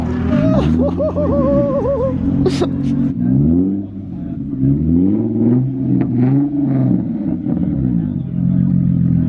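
Several Nissan 350Z cars with 3.8 engines rev loudly at a night car meet, with repeated rising and falling engine roars that sound close and continuous. People talk and laugh over the engines.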